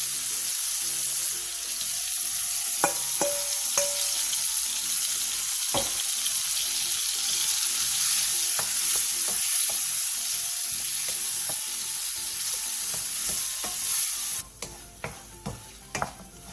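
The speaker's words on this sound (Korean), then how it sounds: "팬에 기름을 두르고 버무려 놓은 죽순, 물 150ml를 넣어 물이 자작해질 때까지 중약불에서 볶아주세요." Seasoned bamboo shoots stir-fried in an oiled pan with water over medium-low heat, giving a continuous loud sizzle with scattered spatula scrapes and taps before the sizzle cuts off into a few isolated clicks.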